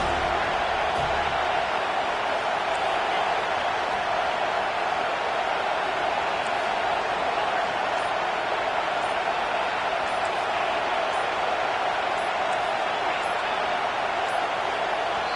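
Football stadium crowd roaring on a 3rd down to back the defense, a loud, unbroken wash of crowd noise that holds steady throughout.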